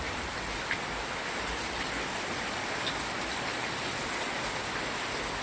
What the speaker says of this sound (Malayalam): അത്യാവശ്യം കുഴപ്പമില്ലാത്ത രീതിയിൽ തന്നെ മഴ പെയ്യുന്നുണ്ട്.